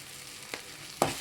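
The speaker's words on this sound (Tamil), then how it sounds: "அந்த பச்சை வாடை போகிற அளவுக்கு வதக்கி எடுத்துக்கோங்க" Tomato masala sautéing in oil gives a soft, steady sizzle, broken by two quick stirring scrapes close by.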